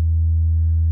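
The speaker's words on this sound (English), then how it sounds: "it's a very nice sine wave." A synthesizer's self-resonating filter produces a steady, pure sine-like tone with a deep fundamental, held evenly throughout at constant loudness, no other sounds.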